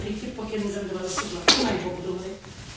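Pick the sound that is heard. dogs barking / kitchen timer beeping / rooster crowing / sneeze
sneeze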